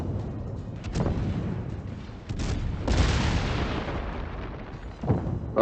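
A Des Moines cruiser fires armor-piercing shells in World of Warships. Several heavy booms roll out in a row, with deep rumbling salvos at an even pace. The gunfire sounds close and loud, with no talking.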